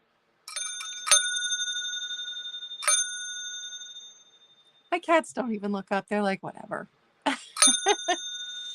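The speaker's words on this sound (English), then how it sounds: "Next up, it's a bell alert, so I am going to ding it." A hotel clerk bell is struck twice with bright ringing dings that decay slowly. A person then talks briefly and the bell rings once more at the end.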